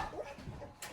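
A puppy named Milan gives brief soft whimpers and a small yip close by, a quick, faint burst lasting about a second.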